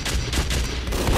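Rapid, loud gunfire in a video game, aimed at a sentry gun, comes as a brief, dense burst of overlapping shots.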